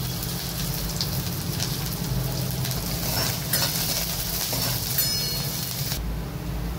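Minced garlic and green chillies sauté in hot oil with cumin and asafoetida for a fenugreek-leaf bhaji, a steady close sizzle and crackle that runs throughout before stopping near the end.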